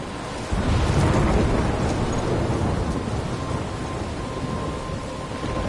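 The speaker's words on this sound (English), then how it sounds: "I'm trapped in a storm?" A loud, steady roar of storm rain with rumbling thunder fills a stormy scene in the video game Life Is Strange, swelling sharply early on and then holding dense and continuous with no voices.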